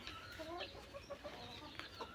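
Native free-range chickens feeding on grass and weeds give soft, faint clucks in short scattered bursts over a quiet background.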